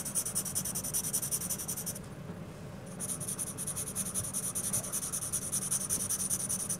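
HB pencil shading creases on a drawing of a jacket on paper, a close, steady scratchy rubbing that runs continuously, pausing briefly once before resuming.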